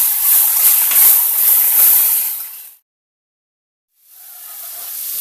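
Peppers and onions sizzle as they sauté in a pan for venison fajitas, giving a steady, close hiss that cuts off abruptly partway through and then resumes more quietly.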